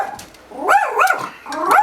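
A nearby dog barks loudly at a mail carrier in a home workshop, several howling, whining barks rising and falling in a wavering series, with no talking over them.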